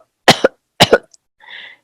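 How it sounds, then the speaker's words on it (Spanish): A man on a crowded bus coughs loudly twice in sharp, close bursts, then gives a softer throat-clearing rasp. "Un hombre tose fuerte en el bus lleno."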